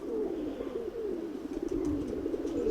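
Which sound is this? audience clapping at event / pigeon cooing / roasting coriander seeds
pigeon cooing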